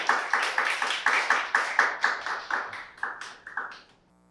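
Audience applause opens a startup team's pitch at a university startup showcase event, with about a dozen claps in a steady rhythm that fade and stop after roughly four seconds.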